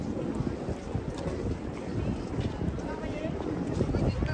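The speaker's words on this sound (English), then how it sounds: "it's very windy out here" Strong wind buffeting the microphone outdoors at New York City's Easter Parade and Bonnet Festival, low rumbling gusts rising and falling throughout, with faint background voices.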